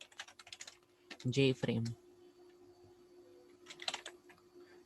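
Keys clatter on a computer keyboard as Java code is typed, a quick run of clicks at the start and another brief burst near the end, with a voice speaking in between.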